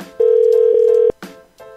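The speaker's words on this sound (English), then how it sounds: "Let me try Megan Sweet one more time. She's not picking" A telephone line rings out unanswered, a single long steady ring tone heard clearly and close, followed by a brief pause and the start of another.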